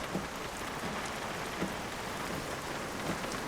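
Steady rain falls in a dense, even hiss, with faint scattered drops standing out and no voices over it.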